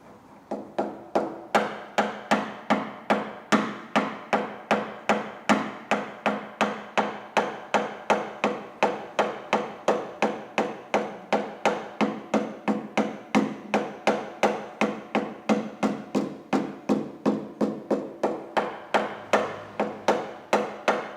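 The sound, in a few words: hammer tapping out a dent in car bodywork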